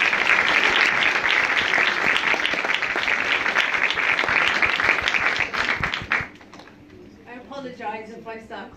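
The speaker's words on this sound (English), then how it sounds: "So please, I want us to have a round of applause for Sienna King." Loud, dense audience applause at a sickle cell awareness gathering, sustained for about six seconds before cutting off abruptly, followed by a person speaking.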